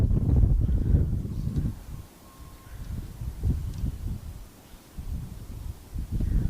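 Gusty wind buffets the microphone outdoors on a windy morning, a steady low rumble swelling and easing in waves with no voices.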